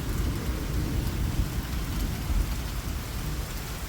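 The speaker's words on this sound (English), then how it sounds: "This is one heavy rain," Heavy rain pours steadily during a severe thunderstorm in west Edmonton, a dense continuous roar with deep low rumbling underneath, loud and unbroken throughout.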